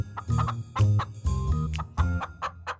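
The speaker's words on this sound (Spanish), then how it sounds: "Rapunzel escuchó cacareos." Hens cluck in a quick, uneven series of close, clear calls, several birds overlapping in short bursts with brief gaps and no talking.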